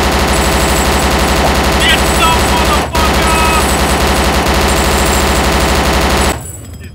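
Sustained automatic gunfire from the Arma 2 game blazes loudly and nearly continuously for about six seconds, with a short break near the middle, aimed at a zombie, then stops abruptly.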